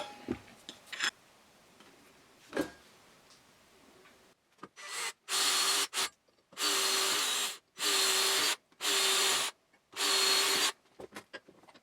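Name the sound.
filing off material with a hand file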